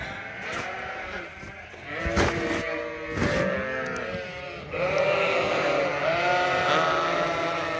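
Several sheep bleat in a farm setting at feeding time, with overlapping wavering calls near and mid-distance, growing denser and louder in the second half.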